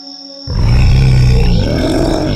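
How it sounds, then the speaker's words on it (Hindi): A deep, loud bear roar rises abruptly out of a quiet forest backdrop in a horror story and sustains, rumbling and growling, for a couple of seconds. "पूरे जंगल के सन्नाटे को चीरती हुई एक और खौफनाक दहाड़ मारी"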